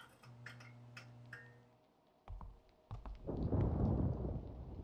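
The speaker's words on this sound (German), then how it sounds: "Ja, ist ja klar, dass es jetzt auch noch gewittert." Thunderstorm in the horror video game White Day: A Labyrinth Named School. Faint ticking and a low hum give way to sharp cracks, then a deep, rolling rumble with rain swells loud and lasts to the end.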